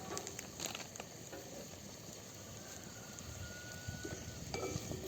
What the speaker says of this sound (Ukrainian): Тут смажиться.